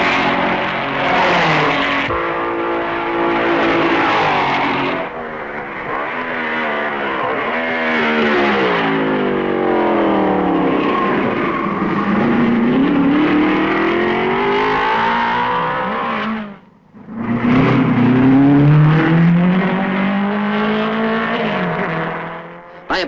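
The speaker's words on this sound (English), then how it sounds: "Kling passes Musso at Malmedy." Racing cars, including a Maserati, roar around the 1955 Belgian Grand Prix circuit near Malmedy, loud engine notes climbing and falling through gear changes as cars sweep past, with a brief near-silent gap before another car screams by.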